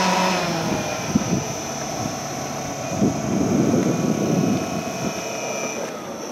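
A scratch-built radio-controlled Fairchild C-119 Flying Boxcar scale model with a 109-inch wingspan taxis out at an outdoor flying event, its engines droning steadily with a faint high whine throughout.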